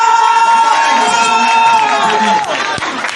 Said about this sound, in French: Quand on dit Mawa Sanogo, tout le monde applaudit.